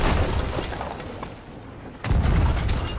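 Cannon fire from a ship in the pirate game Sea of Thieves, a heavy booming blast that fades away, followed by another loud, rumbling boom near the end.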